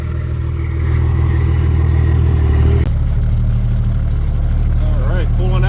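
A loaded truck carrying about 22,000 pounds on its deck pulls out and drives off, its diesel engine a loud, close, rumbling drone that rises and steadies as it gets moving.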